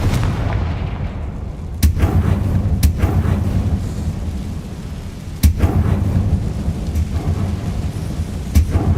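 In the Hogwarts Legacy video game, Confringo fire spell blasts go off as sharp, booming explosive cracks. About five of them land at irregular intervals over a steady rumbling background, loud and close.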